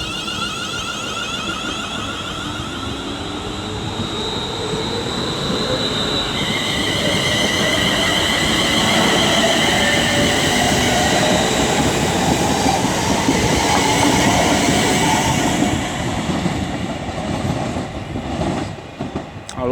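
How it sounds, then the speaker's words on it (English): A train rumbles steadily past on the West Coast Main Line at Liverpool South Parkway, with clattering wheels and high metallic squeals as it crosses rail points, loud and close throughout. "I love that sound when they go over the points."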